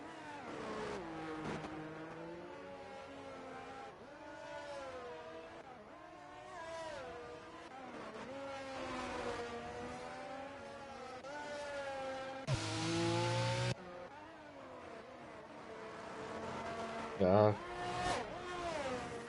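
Ferrari racing cars passing in a racing video game at a Brazil race, engine whine rising and falling as cars go by, heard faintly beneath continuous commentary talk.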